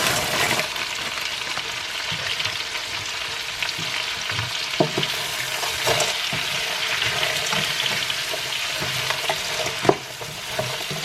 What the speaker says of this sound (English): now I'm going to add in the raw prawns because they need a little bit more cooking